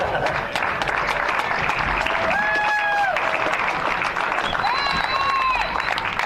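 Continuous crowd applause and clapping throughout a bagger motorcycle race at Chuckwalla Valley Raceway, with some cheering and whistle-like tones rising above the noise, voices mixed in.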